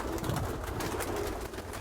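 Pigeons coo in a loft kept for long-distance racing, making soft low throaty calls against a dense, steady background murmur.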